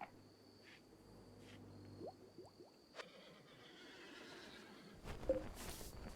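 A stallion in the video game RimWorld gives a brief rising whinny partway through, faint against a quiet ambient game background with soft insect-like chirps and a later burst of noise.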